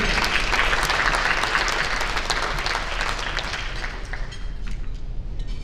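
Audience clapping fills the hall at a Hall of Fame medal ceremony, a dense, even patter that slowly thins and softens toward the end.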